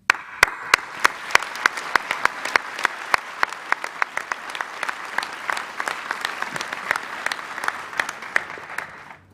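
Audience applauding graduates at a convocation ceremony, sharp individual claps at first that quickly build into dense, steady applause from a large crowd, fading slightly at the end.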